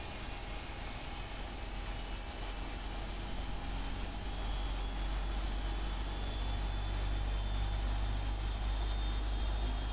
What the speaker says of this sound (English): Let's start some engines.